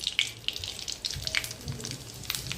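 Cumin seeds sizzle in a ladle of hot oil in a kadhai on a gas stove, giving faint, continuous crackling with scattered small pops.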